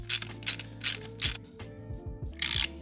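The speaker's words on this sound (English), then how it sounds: "Now you can take your ratchet and just tighten up that Allen" A ratchet tightens the Allen key on a Tial Q blow-off valve fitted to a Subaru STI, giving close, crisp bursts of rapid pawl clicks separated by short pauses, with no talking.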